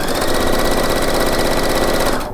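A sewing machine stitching a front seam runs at a fast, steady mechanical rhythm, loud and close, then stops abruptly near the end.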